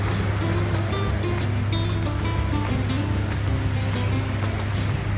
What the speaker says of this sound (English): Pretty cool experience going right through the canyon on the boat.